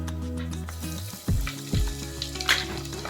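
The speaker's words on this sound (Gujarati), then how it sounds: "રાઈને ફૂટવા દઈશું થોડી વાર રાઈ ફૂટે છે" Mustard seeds splutter and crackle in hot oil for a tempering with black pepper, cinnamon and cloves, a soft steady sizzle broken by a few sharp pops and clatters of stirring, close and quiet, no voices.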